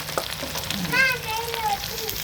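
Curry leaves crackle and sizzle in hot oil in a pan, a steady close frying hiss with brief sharper spits, while a carrot rice lunch is being cooked.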